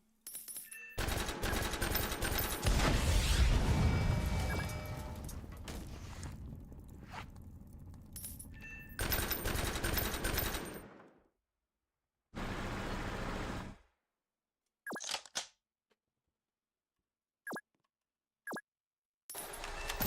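Heavy machine gunners fire in Noobs In Combat: Cold Front, a dense loud stretch of rapid gunfire over the first ten seconds, then a separate burst, followed by a few short isolated shots and clicks amid silence.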